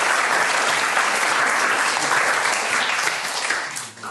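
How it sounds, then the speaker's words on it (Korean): Steady, dense applause from a student audience fills a school lecture hall for about four seconds, loud and continuous before tapering off at the end. "여러분들 자신의 꿈을 위해서 박수 한번 먼저 칠까요?"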